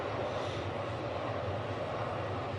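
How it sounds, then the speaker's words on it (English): Jumbo jet flying overhead at a Braves vs Mets baseball game, a loud, steady broadband engine roar with a deep rumble that fills the whole moment. "when you have a jumbo jet flying overhead"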